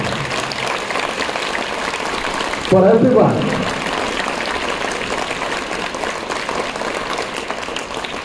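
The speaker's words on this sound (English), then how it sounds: "A louder clap" Students and guests applaud at a school sports prize distribution ceremony, a loud continuous roar of clapping with a brief spoken voice rising over it near the start.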